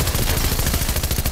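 Rapid close gunfire from a pump shotgun and a machine pistol in the Fortnite battle royale video game, a dense continuous burst of overlapping shots with no pauses.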